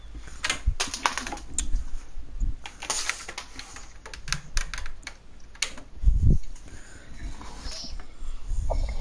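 Rapid clattering keystrokes on a computer keyboard being plugged in and used during map editing, loud and close with uneven bursts and pauses and occasional heavier thumps.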